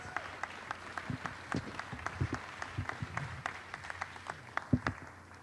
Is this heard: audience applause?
yes